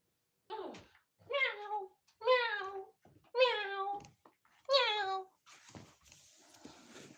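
A house cat meows five times in a row, clear drawn-out cries with short pauses between them, close and fairly quiet, followed by some rustling and a brief voice at the end.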